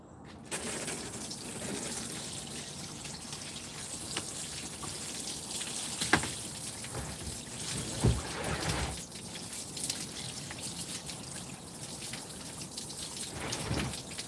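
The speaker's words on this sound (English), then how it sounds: "Let's try the watering can." Water poured from a watering can splashes steadily onto an outdoor kitchen surface, a continuous rain-like patter with a few louder splashes, no voices.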